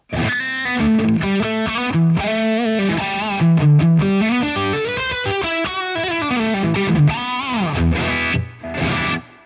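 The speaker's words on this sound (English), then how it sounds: "it's just a straight up vintage Plate 140 sound" An electric guitar played live through a vintage Plate 140 style plate reverb rings out as a continuous melodic phrase, with shimmering sustained notes and a smooth decaying tail, up close and loud.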